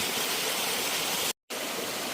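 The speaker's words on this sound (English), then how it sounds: "we're climbing down a waterfall" A steady, full-bodied rush of falling water comes from a waterfall being descended on a steep Appalachian Trail section between Garfield Ridge and Ethan Shelter, cut by a brief moment of silence.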